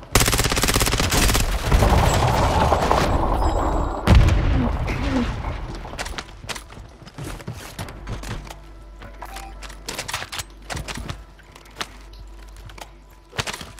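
Gunfire and mortar blasts in a Call of Duty battle: heavy bursts of firing and booming impacts open the scene, a loud blast hits near the middle, then scattered sharp shots crack on and off, some close, some distant.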